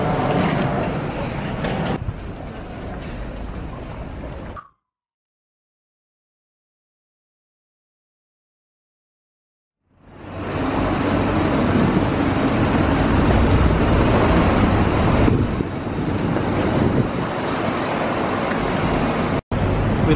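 A train at London Victoria station rumbles loud and close, cuts to a few seconds of silence, then resumes as a continuous rolling roar with faint rail clatter.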